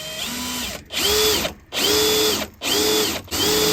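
Power drill with a countersink bit boring holes while building a DIY pond window, three loud close bursts of whirring drilling separated by short pauses, no talk.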